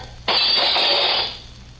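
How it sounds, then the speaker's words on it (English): Glass transom window smashed in a 1950 radio drama scene: one sudden loud crash that bursts into a bright, hissing shatter, holds for about a second and then fades away. "I guess we'll have to do some glass smashing"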